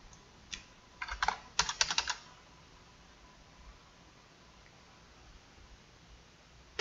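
Numbers are tapped into a computer keyboard as a short run of quiet, close clicks over about a second, then the room falls to faint background hiss.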